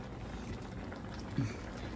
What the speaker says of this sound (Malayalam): നമ്മുടെ പോർക്ക് നന്നായിട്ട് തിളച്ചുകൊണ്ടിരിക്കുകയാണ്